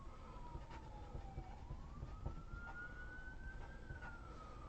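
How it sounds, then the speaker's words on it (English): A distant siren wails outdoors, its pitch sliding down and then slowly rising again in a long continuous sweep above a steady low rumble, with no talking. "This is a siren that's been going for a long time out there."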